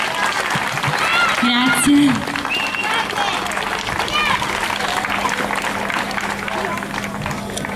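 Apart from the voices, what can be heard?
audience applause for a singer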